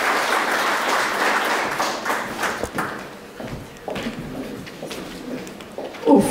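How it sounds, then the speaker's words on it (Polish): Crowd applause at a sports animator of the year award ceremony, starting as dense clapping and thinning into scattered, sparser claps that trail off, with a brief louder bump at the end. "brawa dla Biegam"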